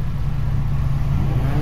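An AWD Honda Civic Type R idling at the race start in Need for Speed Heat, a loud, steady low engine rumble held throughout.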